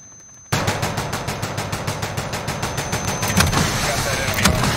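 In Call of Duty: Modern Warfare, an aircraft gun run erupts suddenly into a loud, rapid machine-gun stream of evenly spaced shots that roars on without pause. A few heavier impacts punch through near the end, and a voice speaks briefly beneath the firing.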